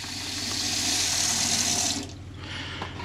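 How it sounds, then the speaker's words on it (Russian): In a homemade Iveco Daily camper van, an electric water pump runs while filtered drinking water gushes steadily from the tap, a close rushing flow that cuts off abruptly near the end. "Сейчас я включу насос. Вот это вода, которая идет через фильтр."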